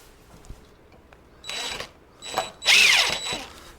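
A power drill driving wood screws during a DIY mounting job: three short whirring bursts, the last one longest and loudest, close up with no talking.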